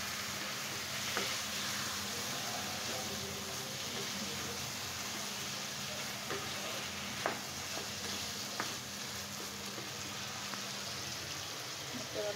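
Chicken curry simmers and bubbles in a pot on the stove, giving a steady, dense sizzling hiss with a few faint clicks, close and continuous throughout.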